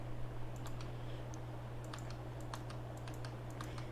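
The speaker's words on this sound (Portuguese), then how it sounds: "Consiste em vez de você clicar SD, você clica S." Computer keyboard keys clicking in quick, irregular bursts while playing Minecraft and ninja bridging, with a steady low hum running underneath throughout.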